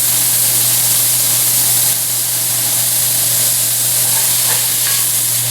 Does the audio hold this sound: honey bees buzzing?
no